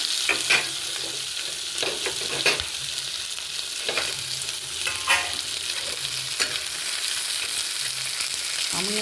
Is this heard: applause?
no